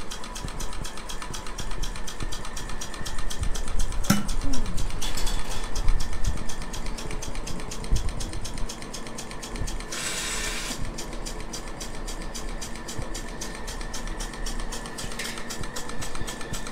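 A milking machine running while milking a mini cow, with a steady rhythmic mechanical pulsing and clicking, moderately loud and close, with a brief hiss burst partway through and no talk.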